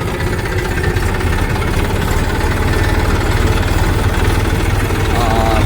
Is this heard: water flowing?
no